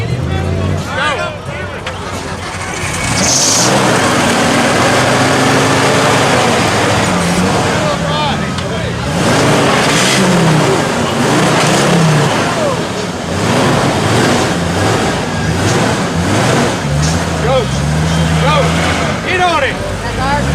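Monster trucks mudding off road, engines revving loudly and continuously with rising and falling roars, while excited voices shout over the noise throughout.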